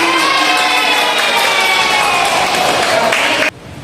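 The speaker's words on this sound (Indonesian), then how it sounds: "Tepuk tangan ya" Children in a classroom clap and cheer loudly together in a dense burst of applause with excited voices mixed in, ending abruptly.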